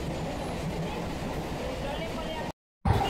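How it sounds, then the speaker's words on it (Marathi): Inside a moving local train, a steady rumble and rattle of the carriage continues for most of the clip, cuts out briefly near the end, then returns. "so let's go inside the train"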